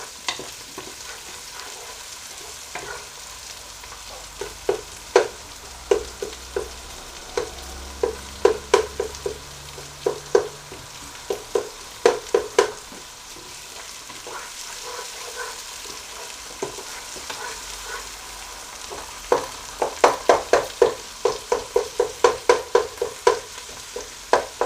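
A tomato masala for dhaba-style daal mash fries in a pan under a low sizzle while a spoon clacks repeatedly against it, the taps coming in bursts and growing rapid and dense toward the end.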